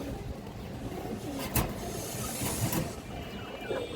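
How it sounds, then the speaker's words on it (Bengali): A big red female pigeon coos softly nearby. Low murmuring calls come and go over a hissy background, with a couple of sharp clicks or scuffs between them and no voices. "দেখেন বিগ সাইজের মাদি কবুতর"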